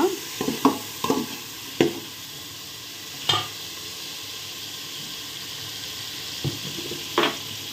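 Two ripe tomatoes cook in a pan for a lentil rice dish, a soft constant sizzle underneath several sharp utensil knocks and scrapes scattered through, close and fairly quiet.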